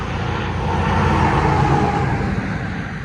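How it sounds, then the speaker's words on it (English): Busy road beside a rural farm stand, giving a steady, loud wash of passing traffic noise with a broad low rumble that swells slightly and fades, continuous with no voices. "Sorry about the road noise."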